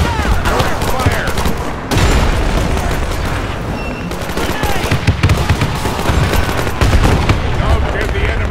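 Dense gunfire from the World War II strategy game Men of War 2 during a Normandy mission, continuous overlapping machine-gun bursts and rifle cracks with heavy booms, loud and close, with faint voices mixed in.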